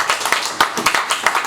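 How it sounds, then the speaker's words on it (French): An audience claps in a quick, fairly loud burst of individual hand claps for a performer at an evening gathering, brief and rhythmic without talk. "On peut l'applaudir encore."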